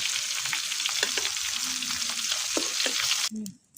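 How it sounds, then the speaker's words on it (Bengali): Pangas fish fries on a hot tawa with steady, loud sizzling, a few soft clinks and stirring noises, cutting off abruptly near the end. "মাছ দিয়ে দিলাম তাওয়াতে, মাছ ভেজে নেব এখন"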